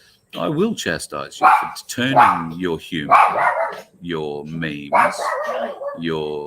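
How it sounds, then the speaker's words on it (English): A dog barks excitedly and keeps yipping under a man's continuous speech, the barks close and loud and coming in irregular bursts throughout. "pardon the dog, she's a bit excited."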